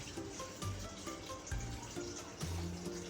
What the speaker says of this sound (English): Now I'm gonna put in here, according to my bigger batch recipe, 970 grams of lukewarm water.